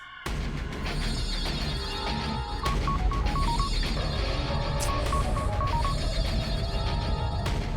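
A repeating electronic phone ring, short beeping bursts in two groups, over steady background noise.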